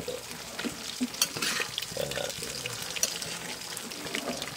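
Pakbet vegetable stew being stirred in a pan, with repeated scraping and stirring strokes, light sizzling and wet shuffling close by, irregular bursts throughout.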